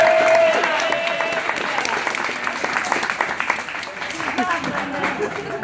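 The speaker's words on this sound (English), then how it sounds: "Give her a round of applause." Audience applause at a rainforest zoo show, a steady wash of clapping for a few seconds with a brief whistle-like tone at the start and a voice speaking underneath.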